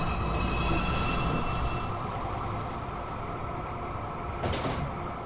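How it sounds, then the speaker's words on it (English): A New York subway 2 train at the 207 St station runs along the platform with a loud, steady rumble and wheel roar, and a brief bright squeal near the end. "Is downtown express 2 train approaching the station."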